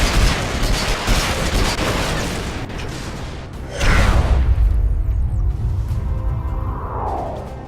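A Reaver gunship in Planetside 2 fires air-to-ground anti-tank rockets, a loud dense stream of rapid launches and booms that swells into a heavier blast near the middle, then a fading whoosh trailing off.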